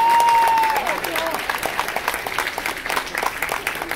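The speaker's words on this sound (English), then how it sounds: "Round of applause for Autumn." Applause rises from the audience at a convention cosplay contest, dense clapping filling the room and holding steady, with a brief voice or whistle at the start.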